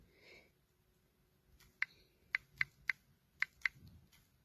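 Keys on a computer keyboard are struck while text is entered in a flyer design. About six sharp, separate clicks come in a short, uneven burst against a quiet room, with no speech.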